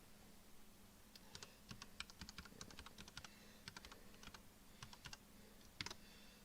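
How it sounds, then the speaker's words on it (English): Someone types on a computer keyboard, producing rapid, irregular clusters of light key clicks and taps at moderate closeness over a quiet room hum. "I'm not the fastest typer in the world anyway"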